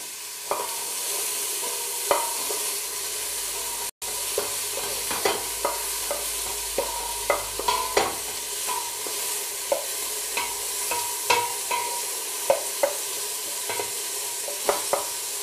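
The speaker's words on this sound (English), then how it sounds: "Keep them moving and then add the peppers." Peppers stirred and fried in a pan for a bean chilli, a steady close sizzle broken by frequent sharp scrapes and clinks of the spoon against the pan, with no voices.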